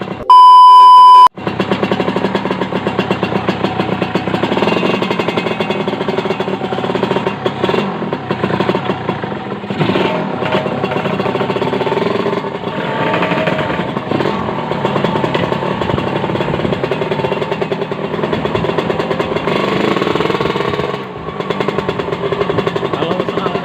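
A Kawasaki Ninja R two-stroke motorcycle engine runs near and loud, a raspy, buzzing idle with slight rev fluctuations throughout, preceded by a short electronic beep at the start.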